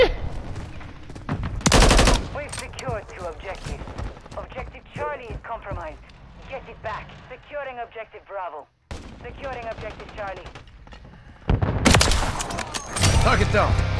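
Gunfire in the video game Modern Warfare 3 multiplayer: rapid automatic bursts and scattered single shots, with loud close blasts at the start and end and a brief silent gap midway, under voices talking.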